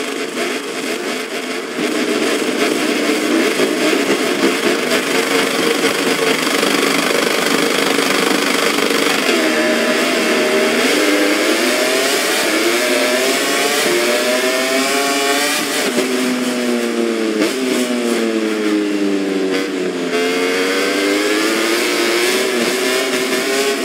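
Motorcycle engines revving on the grid before the lights go out in the MotoGP 24 racing game at Autódromo Internacional, a steady loud drone with rising and falling whines of throttle blips from many bikes, continuous throughout with no talk.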